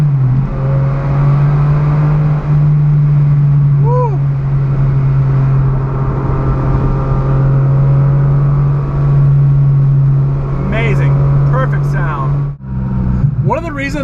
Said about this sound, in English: This car's V12 makes these beautiful little gargle noises